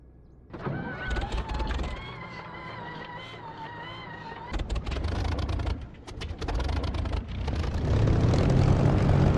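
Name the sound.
propeller aircraft engine starting up, from DCS video game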